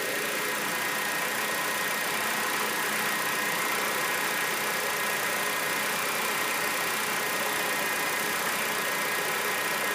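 A 2002 Honda CR-V engine idles steadily and close by at operating RPM, a continuous mid-pitched rumble holding an even rhythm throughout with no voices.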